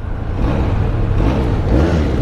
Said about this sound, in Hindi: इंजन काफ़ी स्मूथ और लाइट लग रहा है when I am raving it.